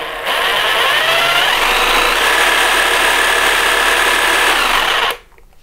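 A Peugeot 18V cordless jigsaw runs for about five seconds as a loud, steady buzzing whir up close, then cuts off abruptly into near silence.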